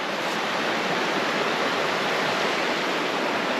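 A creek flows steadily at a backcountry campsite, giving a constant, close rushing wash of water with no voices.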